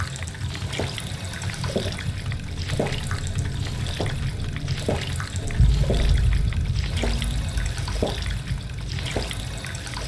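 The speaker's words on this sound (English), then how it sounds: "We're gonna replenish our health with the sink." Water runs steadily from a sink tap in the Fallout 4 game world, a continuous broadband hiss with a heavier gush about halfway through, alone without any talk.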